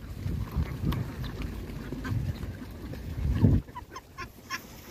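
Close, busy chatter of Khaki Campbell ducks on a farm: many overlapping quacks and honking calls form a steady chorus, then a louder burst followed by a few scattered calls as the flock settles.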